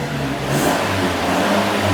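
A sports car engine with a stock exhaust revs and holds a steady, fairly loud mid-pitched drone for about two seconds, close by, with no talking.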